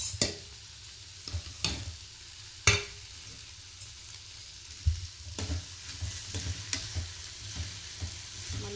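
Tomatoes frying in a pan on the stove, a low sizzle broken by sharp spoon knocks and scraping as they are stirred back and forth, heard up close.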